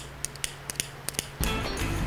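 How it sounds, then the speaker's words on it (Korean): Scissors cut the tip line of a steel freshwater fishing rod in half, heard close up as a string of small metallic clicks and then a louder snip with rustling. "가위로 절반을 자르고"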